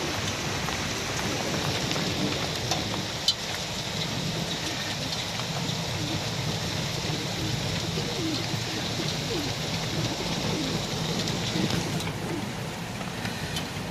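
Marble-sized hail keeps falling steadily around a chicken coop, a constant close patter with faint bird sounds under it and no speech.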